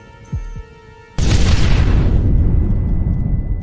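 A massive blast from planted charges at a gate in Red Dead Redemption erupts suddenly after a brief low rumble, then rolls on as a loud, sustained roaring boom that slowly fades.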